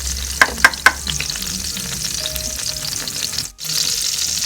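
Oil crackles and sizzles steadily in a pan as chopped garlic fries, with a few sharp clinks near the start and a brief drop-out before the frying resumes.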